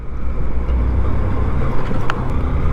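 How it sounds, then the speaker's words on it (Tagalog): A large truck passes close by with a loud, steady roar, heavy low-end engine noise and wind buffeting throughout. "Ito na yung truck na malaki oh."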